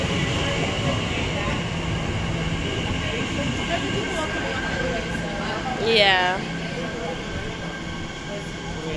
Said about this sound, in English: Oh, this is our train, guys.